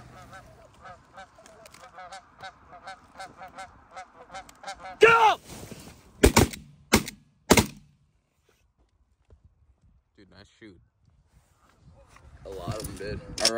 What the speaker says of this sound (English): There's a few gunshots kind of far away